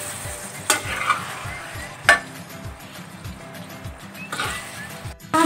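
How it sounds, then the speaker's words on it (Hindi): Minced meat (keema) stirs and fries in a pan while cooking kachnar keema, a steady sizzle broken by a regular rhythm of spoon scrapes and a few sharper clatters against the pan. "अब इसमें हम डालेंगे कीमा, ये डालेंगे हम इसमें कीमा अपना, इसको हमने है भूनना।"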